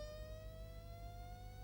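A Roland XP-80 synthesizer note with a rising pitch envelope, a bright, harmonically rich tone sliding smoothly upward, steady and sustained throughout the short stretch, with no voices.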